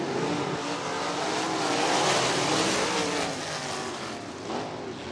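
USAC sprint cars at Red Dirt Raceway roar off the green flag in a dense pack, engines loud and continuous with a sustained rising and falling drone across the whole stretch.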